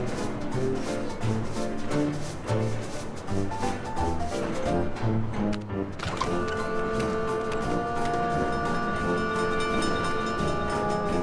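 Train running in the Sam & Max video game, a steady rumble of rail transport with rhythmic mechanical clatter, joined partway by sustained tonal whistle-like layers over game music.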